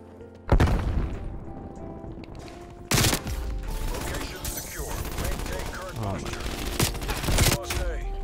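Swiss K31 sniper rifle firing in Call of Duty Cold War, several sharp loud shots spaced a couple of seconds apart amid game noise and bolt mechanisms, with a voice talking over it.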